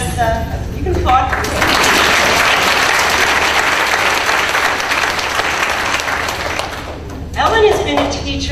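Loud audience applause at a school board meeting for an elementary school Teacher of the Year, rising quickly and holding steady for several seconds, framed by brief speech before and after.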